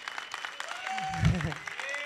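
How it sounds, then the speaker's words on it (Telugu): A short burst of applause from a press meet audience for a film team member, with a low thump mid-way and voices murmuring over the clapping. "సో ఇంకొకసారి మళ్ళీ గట్టిగా కొట్టండి ఈ నూరి కోసం"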